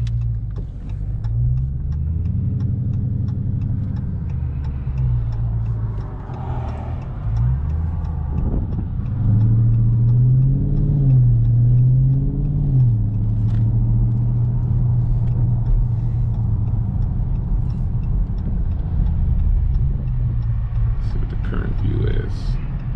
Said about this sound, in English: Give it a little bit of gas. Get it moving.